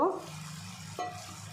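Cauliflower florets hit a pan of fried spice paste with a brief sizzle, followed by a spoon knocking and stirring against the pan amid a steady low frying hiss.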